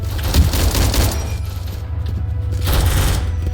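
Loud, dense bursts of gunfire from the Vietnam War video game Rolling Thunder, with heavy booming low end and rapid continuous shots filling the whole stretch.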